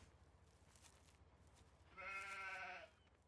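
A single sheep bleat in Farming Simulator 17, a wavering call lasting under a second that rises clearly above a quiet low background hum after a stretch of near silence.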